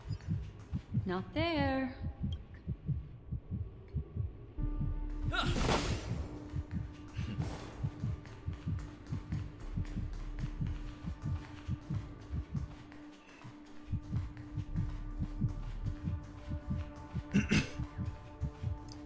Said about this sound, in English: I've spent the last 2 hours listening to what I assume to be a heartbeat in this dreamscape